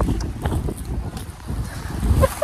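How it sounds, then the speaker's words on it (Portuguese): Cold wind gusts across a seaside cliff walk between Bray and Greystones in Ireland, buffeting the microphone in uneven low rumbles that swell and ease for a couple of seconds. "Tá um vento gelado."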